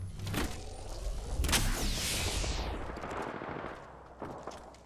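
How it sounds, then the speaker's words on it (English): Gunfire in the video game Apex Legends, several loud bursts and shots crackling over a continuous noisy wash, with a few fainter pops trailing off toward the end. "There are shots around somewhere."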